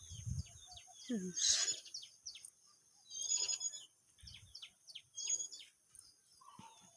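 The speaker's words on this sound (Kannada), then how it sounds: "ಹಕ್ಕಿಗಳು ಸೌಂಡ್ ನೋಡ್ರಿ ಇಷ್ಟೊತ್ತಾದರೂ ಹಕ್ಕಿ ಅಟ್ಟು ಸೌಂಡ್ ನೋಡ್ರಿ" Birds in a tree by a house give repeated high chirps and tweets in scattered bursts, with brief low voices in the background.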